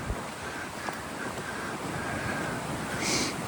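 Wind blusters steadily on a cold hiking trail, a constant broadband rush with occasional gusts and microphone buffeting, with no voices.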